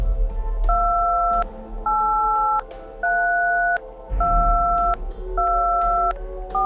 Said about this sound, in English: It's dial tones on a phone.